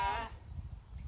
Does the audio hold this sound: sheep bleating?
yes